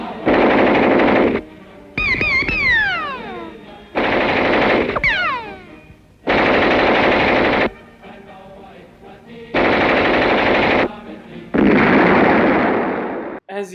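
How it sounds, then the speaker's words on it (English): A typewriter pounded hard so each keystroke cracks like a gunshot, in loud bursts of rapid machine-gun-like rattling separated by short pauses, with whistling, descending tones between some bursts. "his typing does not sound like the normal typewriter. It sounds like gunshots"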